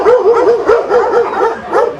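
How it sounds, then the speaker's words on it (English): A German Shepherd barks about eight times in a quick steady run, loud and close, the barks edging toward yips, with no talk. "This one is a German Shepherd."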